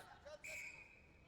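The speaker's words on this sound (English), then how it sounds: "another whistle." A referee's whistle at a National Rugby 15s Division 1 match sounds once, a sharp bright blast rising over crowd and field noise, with a fainter chirp just before it.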